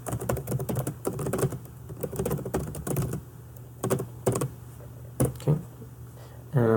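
A computer keyboard being typed on to enter a note in a student note-taking app, close-up irregular bursts of clicky keystrokes with short pauses between runs, loud and clear with no talk.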